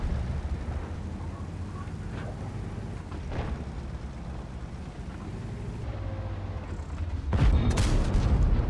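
A tank gun fires in World of Tanks, one heavy boom near the end after a long low rumble of engine and battlefield noise.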